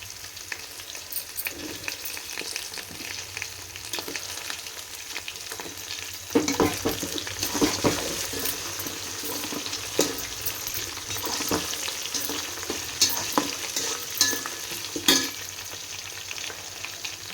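Washed meal maker soya chunks frying with browned onions in a pan, a steady close sizzle with scattered stirring scrapes and a few louder clatters partway through.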